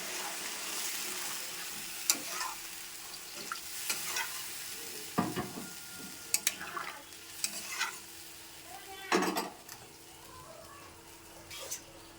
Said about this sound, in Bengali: এবার দেখো আমি জলটা দিয়ে দিলাম